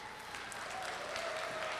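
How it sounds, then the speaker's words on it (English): Applause from a room of people, a steady patter of many hands clapping throughout, moderately loud with no voices over it. "Sylvia, let's give her a round of applause."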